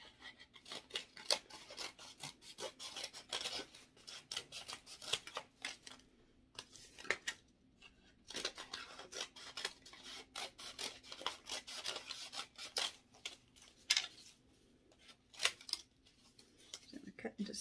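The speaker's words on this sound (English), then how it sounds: "Cut this into strips." Scissors cut cardboard coffee sleeves into strips in a series of quick snips and rasping slices, irregular and fairly close, with pauses between cuts.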